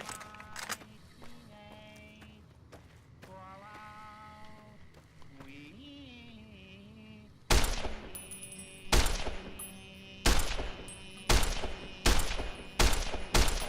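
Service rifle gunfire in Fallout: New Vegas rings out as a run of sharp, loud single shots spaced about a second apart, following a stretch of quieter ambient game sound and tones.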